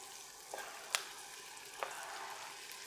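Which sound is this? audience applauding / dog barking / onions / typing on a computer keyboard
onions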